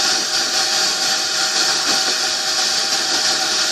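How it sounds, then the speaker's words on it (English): A car engine idles steadily with a continuous, even drone and faint mechanical whir, holding constant for a few seconds with no talking. "The engine's running"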